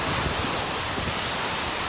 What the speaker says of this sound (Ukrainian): волнується море.